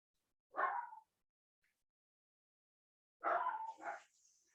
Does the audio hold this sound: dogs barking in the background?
yes